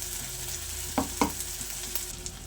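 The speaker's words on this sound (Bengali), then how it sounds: "এবার আমি গ্রেট করে রাখা কারি পাতাটা দিয়ে দেব।" Grated curry leaves hit hot spiced oil in a pan and sizzle steadily, with a couple of brief stirring scrapes near the middle and no talking.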